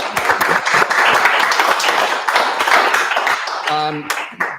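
A tech event audience applauds after a panel on AI in Australia, dense clapping that stays loud and steady before thinning into scattered claps, with a voice briefly talking near the end.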